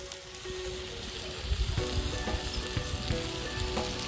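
Chopped onion and tomato sizzle steadily in a hot pan with spices, a dense crackling fry with occasional stirring scrapes, close and moderately loud.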